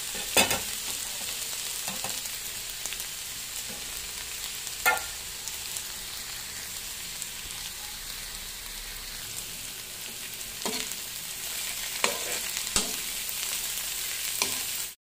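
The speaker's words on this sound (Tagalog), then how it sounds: "Gisa na tayo ng ampalaya." Bitter gourd (ampalaya) sautéing in a pan, with a steady, loud sizzle and occasional scrape-and-stir clatters throughout, close up and without voices.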